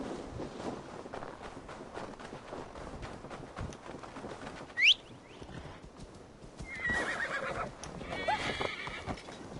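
Horse hooves clip-clopping at a steady walk in Assassin's Creed Valhalla, with a single sharp whinny partway through and faint birdsong over a quiet ambient bed.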